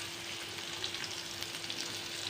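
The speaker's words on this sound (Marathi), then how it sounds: "कांदा टाकते," Chopped onion sizzles in a pan of hot oil with roasted cumin for street-style masala Maggi, giving a steady, soft frying hiss with faint crackles and no voices.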